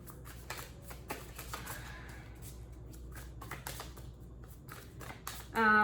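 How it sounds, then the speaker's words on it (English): Tarot cards are shuffled close up in a rapid, papery riffling and tapping that continues throughout, ending with a sudden brief tone. "I've pre-shuffled, but I'm gonna shuffle a little bit more"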